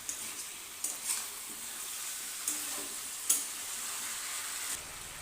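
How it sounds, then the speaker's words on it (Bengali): Salted chicken meat fries on a high flame for a potato chicken curry, giving a steady close sizzle broken by a few sharp scrapes and clinks from stirring in the pan. "লবণ দেওয়ার পর মাংসটাকে হাই ফ্লেমে ভেজে নেব।"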